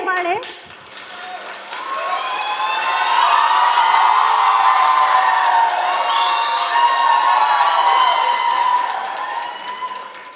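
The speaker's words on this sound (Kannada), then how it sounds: "ಚಪ್ಪಾಳೆ ಚಪ್ಪಾಳೆ" A crowd claps and cheers for two competing teams at a lively games event, the noise swelling after a brief start and holding loud and continuous with shouts and high voices mixed in.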